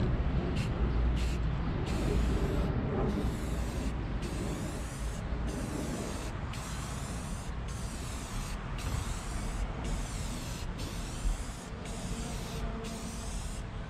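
Rust-Oleum trim and bumper paint hisses from an aerosol can onto a Honda Civic in a series of short, close spray bursts separated by brief pauses, one after another with no talk.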